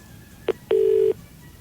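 Telephone number being dialed during a radio prank call, a short keypad tone followed by a longer tone, clear and close against a quiet background.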